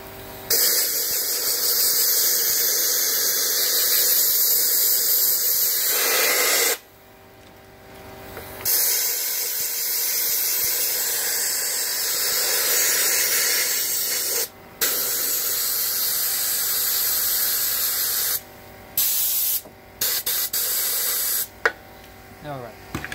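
Compressed air hissing hard from an air compressor line during a Kawasaki KV75 MT1 fuel tank repair, long loud continuous blasts broken by brief pauses and a few short spurts near the end.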